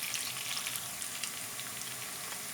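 Onions and celery frying in a pan, a steady close sizzle with fine crackling pops, quiet and uninterrupted by talk.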